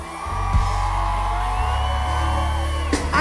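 At a concert crowd, whoops and cheers swell into a loud, sustained roar under a droning stage sound, with a couple of sharp bangs.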